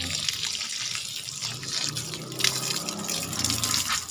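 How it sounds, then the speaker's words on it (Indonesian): Water poured from above onto a newly planted santigi karang shrub, a continuous splashing trickle with small spatters and drips, moderately close and steady throughout. "Cukup kita siram begini, tapi posisinya jangan dari samping, dari atas begini"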